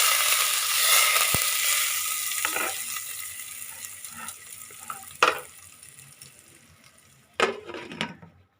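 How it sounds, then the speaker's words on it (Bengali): A tadka is poured into a pan of veg aloo dum with a loud frying sizzle that slowly fades, and a few sharp clinks and stirring scrapes break through along the way. "আমার ফোড়নটা ভাজা হয়ে গিয়েছে, আমি এবার একটু তড়কা লাগিয়ে দিলাম।"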